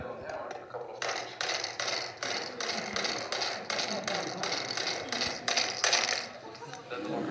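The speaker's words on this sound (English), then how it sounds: "you hit the handle with a rubber or a nylon hammer a couple of times" Rubber or nylon hammer striking the handle of an electronic lock, a rapid series of about a dozen sharp, close metallic taps with brief pauses.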